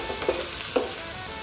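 Chopped onions sautéing with pounded garlic in a pan, a steady close sizzle with two brief clinks or scrapes of a utensil against the pan.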